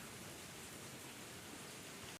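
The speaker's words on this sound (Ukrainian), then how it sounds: "поки нас дощик крапає" Light rain dripping outside in western Ukraine, a very faint, even hiss of falling drops running steadily throughout with no voices.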